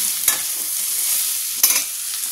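A spatula stirs lentils with vegetables such as onion stalks, potato and beans frying in a pan, a steady close sizzle broken by two sharp scraping stirs.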